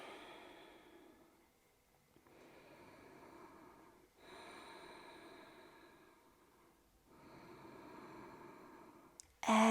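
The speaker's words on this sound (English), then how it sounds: "Breathing here." Slow, steady breaths drawn in and let out during a seated chair yoga stretch, about four long, soft breath cycles close to the microphone, with a brief sharp sound at the end.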